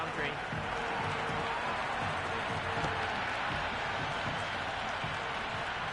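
A cricket stadium crowd in the Cricket 26 video game on PS5 keeps up a steady roar and applause throughout the first morning of a match, under continuous commentary.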